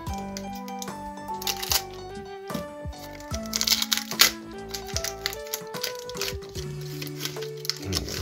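A Pokémon trading card booster pack is torn open, Evolving Skies, with crinkling foil and paper rips close up, set against steady background music with sustained tones.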